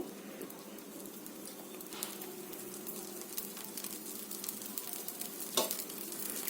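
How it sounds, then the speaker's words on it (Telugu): Oil hisses and sizzles steadily as it is poured onto a masala dosa made with sweet corn on a hot pan, a continuous close frying crackle with a small sharper spatter near the end. "ఇదిగో మళ్ళీ నూనె వేస్తున్నాను"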